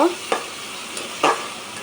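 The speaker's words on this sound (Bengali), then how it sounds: "টমেটোটা দিয়ে মশলাটা আরেকটু ভালোভাবে কষিয়ে নিব।" Spice paste of ginger, garlic, salt and turmeric with chopped tomato is stir-fried in a pan for a fish curry. A steady soft sizzle is broken by two short, close scraping strokes of the spoon.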